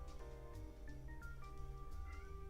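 Faint cat meows drift in over a low humming background, short calls repeating a few times at a distance.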